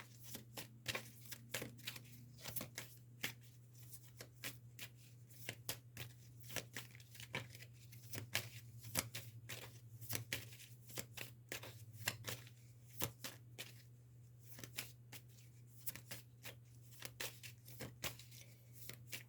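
Tarot cards are shuffled continuously, crisp riffling flicks repeating steadily and close by over a low steady hum, with no talking.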